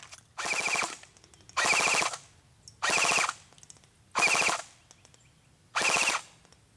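An AGM Sten MKII airsoft electric gun fires five rapid full-auto bursts, each about a second long with a buzzing motor rattle, separated by short pauses.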